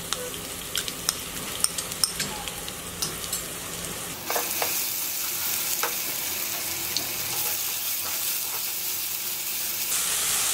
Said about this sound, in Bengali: এখন আমি এর মধ্যে আদা রসুন এবং পেঁয়াজ বাটাটা দিয়ে দেব